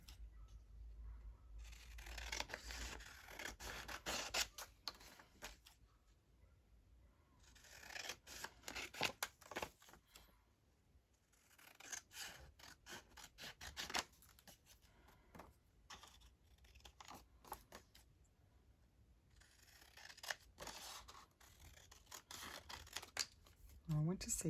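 Scissors snipping freehand through paper ephemera for a junk journal, repeated close crisp cuts in uneven bursts with short pauses between, faint and intimate.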